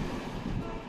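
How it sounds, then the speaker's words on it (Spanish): Steady rumbling of a train passing through an old, disused railway station, continuous and moderately loud with no voices. "aquí todavía pasan trenes"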